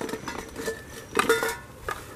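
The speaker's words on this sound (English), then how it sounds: "So, this is my frying pan. Brought a plate up." Metal frying pan and plate clinking and knocking as they are handled outdoors on a day hike, a few light, scattered clatters close by.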